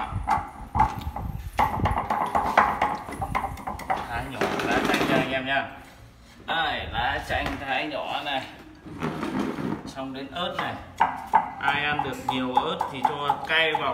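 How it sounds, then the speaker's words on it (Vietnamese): Rapid knife chops slicing lime leaves on a cutting board, crisp repeated taps in bursts with short pauses, close and fairly loud over background music. "Tôi thái lá chanh trước này."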